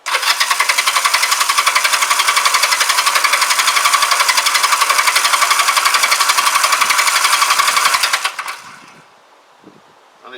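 A Honda CM200T Twinstar motorcycle, leaking petrol and tried without choke, fires up and runs with a loud, fast, steady mechanical chatter for about eight seconds before the engine dies away.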